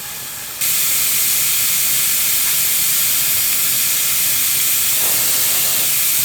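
A pressure canner full of chicken stock at a low boil lets out a loud, steady steam hiss that kicks in abruptly after a quieter opening and holds constant to the end.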